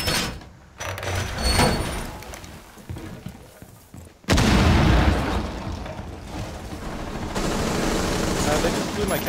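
Walls are blown open by an explosion in the video game Rainbow Six Siege, with a sudden loud blast and rumbling debris amid gunfire, while players talk over it.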